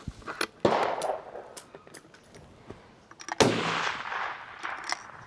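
Repeated gunshots at an outdoor range shooting steel targets, two loud sharp cracks with ringing metallic clangs and a few lighter impacts in between, no talking.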